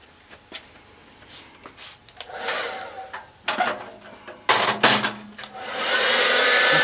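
A heat tool blows steady hot air across a sticker on an ammo can, its whoosh rising and falling as it moves and ending in a sustained loud roar, with small handling knocks in between.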